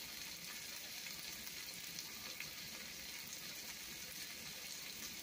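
Steak pieces fry in a pan for burritos, a faint, steady hiss and sizzle running evenly throughout with no talking.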